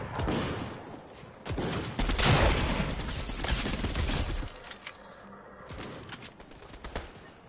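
Bursts of rapid gunfire from a gun in the video game Fortnite, loud and dense in the first half and then sparser, scattered shots toward the end.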